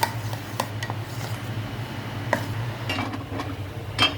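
Spoon stirring a dal-rice appe batter with salt and oil in a bowl, giving soft scattered clinks and scraping taps against the vessel over a steady low hum, close and fairly quiet, with no talking.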